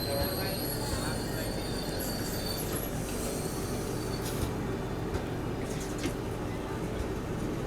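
Another train rolling past on the adjacent track while a stopped train sits at the outer signal, a loud continuous rumble and rattle of wheels with faint squeals, heard from inside a coach, voices murmuring underneath.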